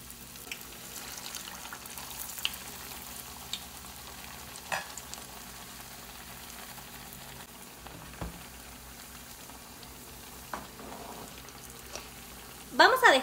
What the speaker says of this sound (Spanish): en un sartén con aceite bastante calientito, vamos a poner nuestras quesadillas a dorar